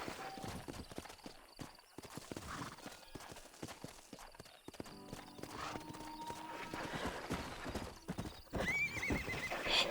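Horses in the Red Dead Redemption video game, with steady hoofbeats clip-clopping throughout and a whinny rising near the end, under faint background voices.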